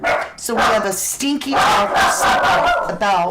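Several pet dogs bark loudly and repeatedly indoors in a home as a delivery arrives, with a person talking over the commotion throughout.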